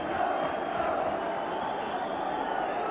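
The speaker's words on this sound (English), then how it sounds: "A really massive crowd in here, making a tremendous noise." A massive football crowd roars steadily inside the stadium at a 1983 Scottish Premier Division match between Dundee and Dundee United, a dense continuous wash of voices with no breaks.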